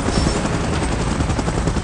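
Helicopter in a Godzilla and Kong video game, a dense, steady rotor roar with continuous broadband noise and faint rapid chopping, loud and close throughout with no talk.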